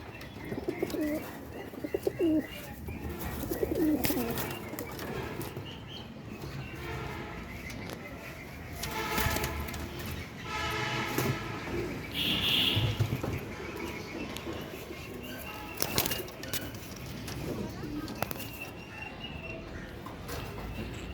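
Pigeons at a high-flyer pigeon farm coo softly and steadily, with occasional chirps and wing or foot movement mixed into a busy, fairly faint background.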